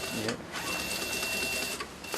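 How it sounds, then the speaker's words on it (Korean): A sewing machine in a luxury bag repair shop stitches a high-end bag, whirring at a steady, rapid rate without pause for the whole stretch. "바늘 담수가 중요한 명품은 재봉틀을 사용하지만 1mm의 오차도 없이 정확하게 작업을 해야 하기 때문에 까다로운 작업입니다"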